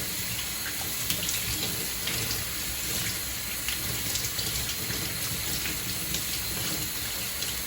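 Hot tap water runs steadily over catfish being washed for an African ngolo dish, a continuous hissing splash under faint background hum with no talking.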